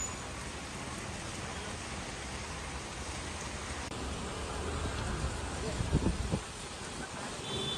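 Steady heavy rain hisses continuously in Vapi, Gujarat, with a few louder thumps and patters near the end.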